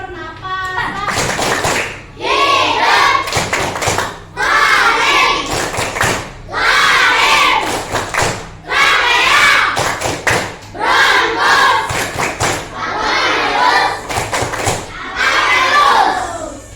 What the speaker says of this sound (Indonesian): Semuanya ikuti ibu, kita akan melakukan tepuk sistem pernapasan